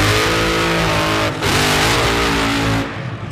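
Top Fuel dragsters in round two of qualifying, Clay Millican and Doug Foley, roar down the drag strip in a loud, continuous nitro engine blast. A short dip in the middle gives way to a rising pitch before it fades near the end.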